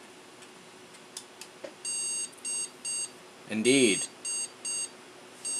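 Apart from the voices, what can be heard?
motherboard POST beep code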